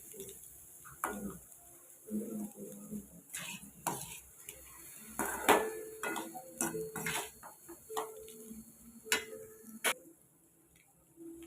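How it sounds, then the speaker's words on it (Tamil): A spoon stirs beaten eggs in a pan for Tamil egg podimas, with light scraping and irregular metallic clinks against the pan over a faint sizzle, close and unhurried. "இப்போ முட்டையை உள்ளே சேர்த்தாச்சு இப்போ இதை பொறுமையாக அப்படி கிளறிட்டுப்போம்"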